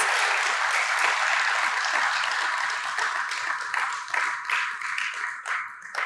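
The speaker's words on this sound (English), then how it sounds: "give them another round of applause" A debating competition audience claps for the proposition team in a steady, dense round of applause that thins slightly near the end, heard alone.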